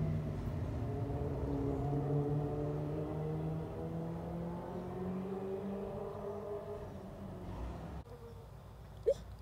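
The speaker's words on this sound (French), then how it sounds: "Il y a vraiment un tracteur qui vient d'arriver là." A tractor arriving nearby gives a steady low engine drone with shifting harmonics, fairly faint and constant, with no talk over it.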